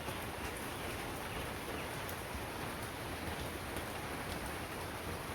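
Morning rain in a village falls steadily on surfaces, making a soft, even hiss that stays constant and fairly faint throughout.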